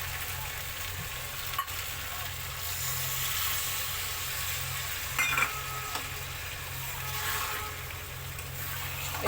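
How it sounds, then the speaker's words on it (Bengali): Fish pieces with spices sizzle in a pan on an induction cooker, a steady hissing fry with a couple of faint scrapes from stirring, close and even, with no talk. "মাছগুলো দিয়ে কিছুক্ষণ কষে নেব এখন, কাঁচা গন্ধটা চলে যাবে।"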